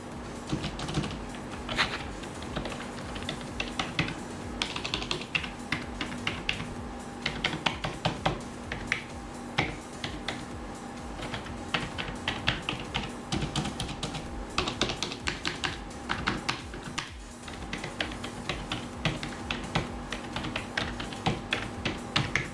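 Rapid clacky key presses on a Rexus Warfaction VR3 Max mechanical keyboard, typed continuously in uneven bursts, close and crisp with no talking.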